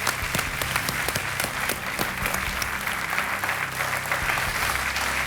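Steady studio audience applause on the KBC (Kaun Banega Crorepati) Season 10 game show, a dense continuous clapping wash filling the hall for several seconds without pause.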